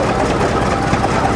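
A 1933 oldtimer tractor runs at a vintage vehicle meet at Hafnerberg, its engine giving a loud, steady, close rumble with no breaks in the sound.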